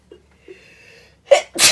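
A close, loud sneeze with a sharp intake and explosive burst, preceded by faint quiet sounds.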